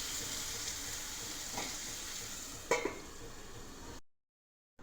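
Tomatoes frying with onions in a pan for rajma masala curry, a continuous soft sizzle with a single sharp clink of utensil against the pan near the end, close and quiet, then sudden silence.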